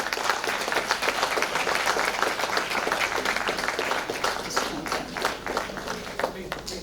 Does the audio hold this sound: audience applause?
yes